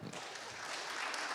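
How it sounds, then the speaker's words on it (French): Audience applause for invited guests at a panel event on ocean risks in the French overseas territories, a steady broadband clatter of clapping that holds evenly for the whole moment with no voices over it. "On peut les applaudir, c'est à vous Romain"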